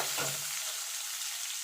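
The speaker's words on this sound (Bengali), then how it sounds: "আলুটা লাল লাল করে ভেজে তুলে নেব" Potato pieces dusted with salt and turmeric fry in oil, hissing in a loud, even sizzle from start to finish, with one brief stirring scrape at the beginning and no talking.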